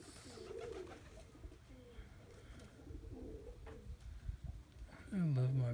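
Soft tippler pigeon coos murmur in the background under talk, then a loud, close cooing call rises at the end.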